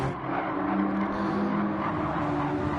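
Race cars in Gran Turismo 7 drone steadily at close range for the whole stretch, one continuous engine note with no breaks.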